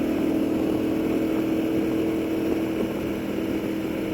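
A 1999 Moto Guzzi California V11EV motorcycle accelerates toward 100 mph on an easy roll, not at full throttle, its steady engine drone joined by loud, continuous wind and road rush that holds level throughout.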